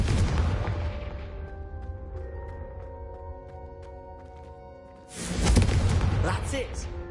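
A Confringo blasting spell is cast in Hogwarts Legacy, giving a loud, booming burst with a crackling tail that erupts after a quieter stretch of lingering shimmering tones and voices.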